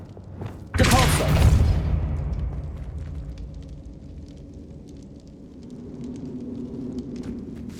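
A Depulso force spell striking in the Hogwarts Legacy video game, in a bone-lined archway: one sudden, loud burst of impact that trails off into a rumbling tail, followed by quieter rustling ambience.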